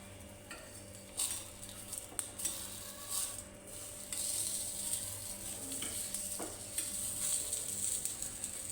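A paratha roasts on a hot tava over a low flame, giving a steady soft sizzle broken by a few light clinks and scrapes of a spatula, close but fairly quiet, with no talking.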